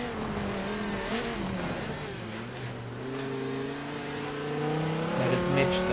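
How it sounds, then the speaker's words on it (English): An Audi TT in a racing video game at the Nürburgring 24 Hours comes off the throttle into a braking zone, its engine note dropping and droning steadily with other cars' engines layered around it; a commentator talks over it. "You hear that Audi TT engine work away into braking zone."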